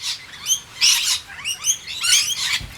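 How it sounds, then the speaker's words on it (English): A blue-faced honeyeater calls in a bird sanctuary, giving a series of sharp, high chirping bursts in irregular clusters, fairly close and clear against a quiet background. "I have to show you my blue-faced honeyeater."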